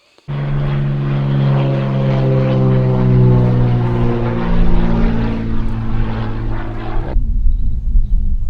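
A Cessna 210 propeller plane's engine drones steadily and loudly close by as it lands, then cuts off abruptly, leaving rumbling wind and mechanical noise on a hot, windy farm airstrip near Cape Town.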